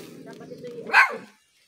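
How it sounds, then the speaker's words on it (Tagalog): A single dog bark rings out at a rural outdoor cooking spot, one short sharp yelp rising over a low murmur of nearby voices, then quiet. "may aso pa"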